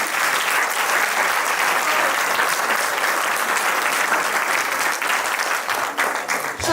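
An audience at an event breaks into sustained, loud applause, a dense wash of clapping that holds steady and then thins slightly toward the end.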